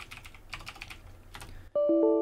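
Quick keystrokes on a computer keyboard as a Linux server reboot command is entered, a dense run of light clicks over about a second and a half, close and alone, then a steady electronic tone takes over.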